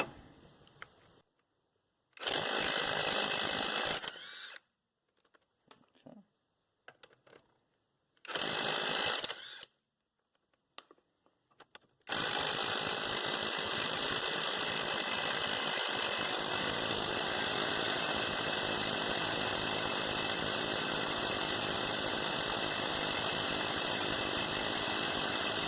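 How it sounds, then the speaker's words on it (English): A battery-powered eBay impact wrench hammers at a stuck car tyre's wheel nuts in short loud bursts, then runs in one long continuous rattling burst, close by. "We're going to use this eBay impact wrench, and we're going to see if we can remove this whole tire just with this one wrench"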